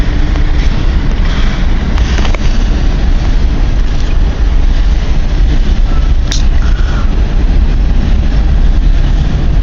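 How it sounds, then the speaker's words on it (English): A long CN freight train begins to roll, a loud, constant low rumble and rushing noise with faint creaks and clanks, steady from start to end and without talk. "Train starting the tug."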